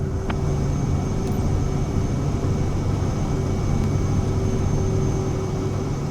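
Aircraft engines in MSFS 2024 run at takeoff power, a steady loud broadband roar with a low droning hum and a faint high whine, continuous throughout without voices.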